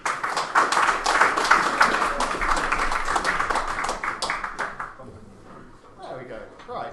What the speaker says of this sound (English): let's give a massive round of applause for for our final speaker of the evening